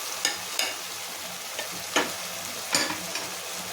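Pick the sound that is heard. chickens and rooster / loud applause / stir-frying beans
stir-frying beans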